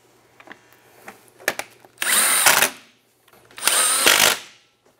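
A power drill drives screws during an Aerocharger install on a Ski-Doo E-TEC snowmobile, two loud close whirring bursts of about a second each, preceded by faint clicks and handling noise.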